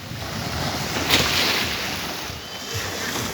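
Sea waves surging against an eroding shoreline where a fish auction building stands threatened, a steady broad wash of surf with a brief louder crest near the middle, wind rumbling across the microphone throughout.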